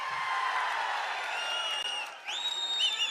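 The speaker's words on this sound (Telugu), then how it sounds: "అవునంటే గట్టిగా చప్పట్లు కూడా చెప్పండి అవునని" A crowd at a political rally cheers and claps in a continuous wash of noise heard from a distance, with rising whistles and whoops swelling over the roar toward the end.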